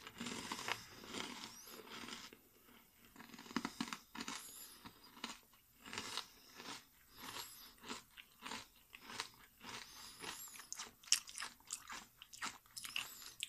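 Close-up steady crunchy chewing and biting of a croquette-flavored UHA Mikakuto snack, with repeated crisp bursts in an uneven rhythm; no talking.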